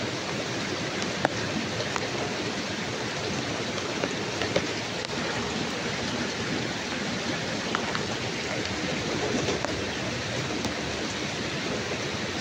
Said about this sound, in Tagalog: Hindi na talaga hinto yung ulan dito mga lods.